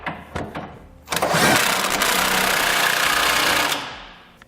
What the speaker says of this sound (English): We're going to be using a 24mm socket to tighten them up.